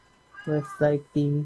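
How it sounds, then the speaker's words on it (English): A house cat meows three times in quick succession, close and fairly loud, each call a short, tonal mew with a rising-falling pitch, while a voice speaks faintly underneath. "That's my cat"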